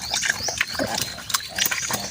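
A thirsty pig on a farm eats and drinks, snorting and slurping close by in busy, uneven bursts, with grunts and wet smacking throughout.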